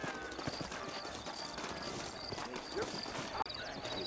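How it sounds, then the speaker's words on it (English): Horse hooves clip-clop steadily on a dusty frontier-town street in the video game Red Dead Redemption, faint and continuous under low ambient background. "I got the horses saddled up and ready out front."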